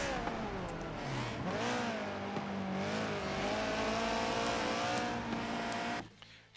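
A Honda S2000 and a Subaru BRZ race on the Silverstone International circuit. Engines rev hard and sustained, with pitch rising and falling through gear changes and corners, before the sound cuts off abruptly at the end.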